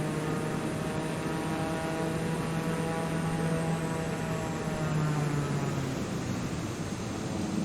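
Propeller aircraft droning at an airstrip, a steady broad engine roar with a low humming tone that holds and slowly shifts, close and continuous without talk.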